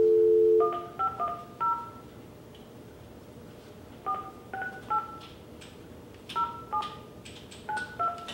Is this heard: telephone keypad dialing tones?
yes